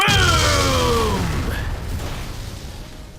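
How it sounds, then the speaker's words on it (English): The Explosion move from Pokémon Sapphire goes off as one loud boom with a descending whoosh that fades out over about three seconds, with no voices over it. "he got the explosion treatment"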